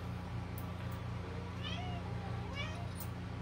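A house cat meows a few short times, fairly faint, over a steady low hum in a room late at night.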